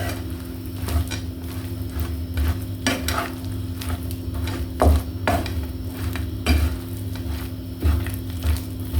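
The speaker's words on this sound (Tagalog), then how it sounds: "Haluin na lang natin siya." Cashew brittle being stirred in a pan off the heat: repeated scraping strokes and soft knocks of a utensil against the pan come at an uneven rhythm over a low, steady hum, close and clear.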